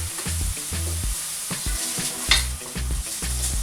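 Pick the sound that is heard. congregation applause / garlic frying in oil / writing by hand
garlic frying in oil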